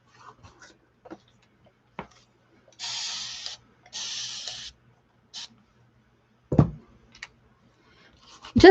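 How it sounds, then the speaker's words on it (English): Stamp cleaner sprayed from a pump bottle to wet down a stamp, two short hissing bursts followed by a brief third, with soft tapping and clicks around them in a quiet room. "this already has stamp cleaner on it, and it's usually got more than enough, so I just wet it down."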